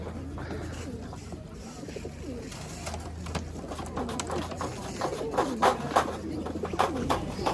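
Pigeons coo steadily at the Ternopil bird and animal market, their soft repeated calls rising over a busy, murmuring market background.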